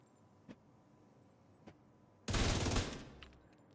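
Rapid burst of video game gunfire, a dense loud volley of about half a second following a couple of faint isolated pops, ending the clip alone without talk.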